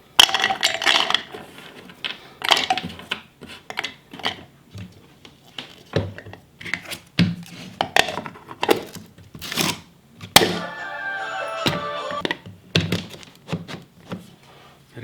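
Dry fruits dropped by hand into Borosil and Brayden electric choppers with stainless steel blades, giving a string of sharp close clatters and thunks against the bowls, irregular and bursty, with a brief rattling pour near the end.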